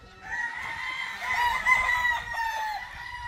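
Sweater gamefowl roosters crowing at a breeding farm in Isabela, Negros Occidental, a clear drawn-out crow close by with overlapping fainter calls behind it.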